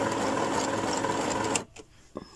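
Sewing machine stitching tag shapes onto fabric pages of a tag book, running in a continuous fast buzz that stops abruptly, followed by faint handling noises.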